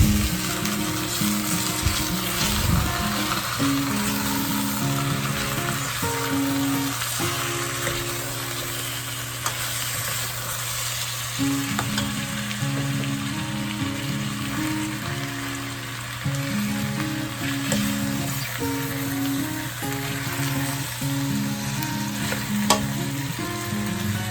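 Chicken piyanggang mixture with lemongrass, from Tausug cuisine, sizzles steadily in a pan while it is stirred. A low continuous hum runs underneath, broken by occasional scraping clinks.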